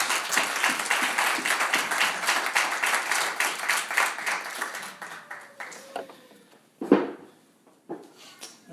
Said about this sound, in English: Let's give our room a applause.